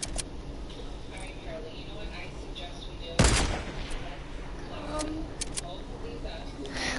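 Video game gunfire cracks out in one sharp, loud burst partway through, with faint scattered shots and game ambience around it and a voice talking.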